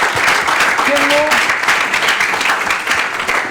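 Loud audience applause fills a televised variety show studio, dense and steady for several seconds, with a brief voice or whistle rising over the clapping near the middle.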